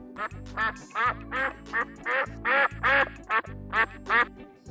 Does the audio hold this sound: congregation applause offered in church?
no